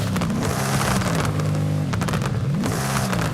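A Shelby GT500 with anti-lag, driven in the video game Forza Horizon 5, roars along a street, its engine note rising and falling through revs, loud and close throughout.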